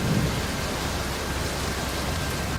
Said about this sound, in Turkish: bardaktan boşalırcasına yağan yağmurun altında